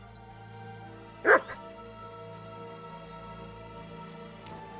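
A single dog bark rings out in the Kingdom Come: Deliverance II video game, short and fairly close over a steady low ambient drone, followed by a faint second yip.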